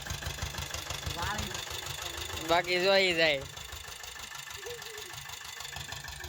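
A small tractor engine idles steadily with a rhythmic low thumping, while a voice speaks briefly over it near the middle.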